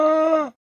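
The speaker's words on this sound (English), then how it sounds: "Llama." A single llama call, a short voiced hum-like groan lasting about half a second, steady and close, then cutting off into silence.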